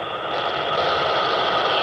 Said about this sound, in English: There's somebody keying up.